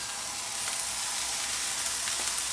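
Lamb pieces hitting a hot pan for kavurma, an immediate bright, hissing sizzle that stays steady and near, with a couple of faint crackles over the continuous wash.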